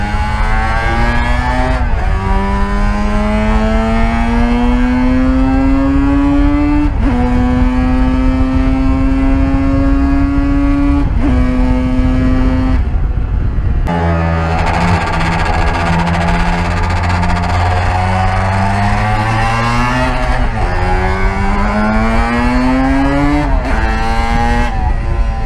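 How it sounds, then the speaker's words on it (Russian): Yamaha RD400 two-stroke motorcycle accelerating hard, its engine note climbing steeply through several gear changes with brief drops between, loud and close for the whole run. "Yamaha RD400 оживает и выдает дикое ускорение."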